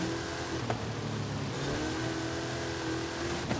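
Supercharged car engine in Forza Horizon 5 holds a steady, close drone with sustained harmonic whine, driving in rain, the revs shifting slightly around the middle of the stretch.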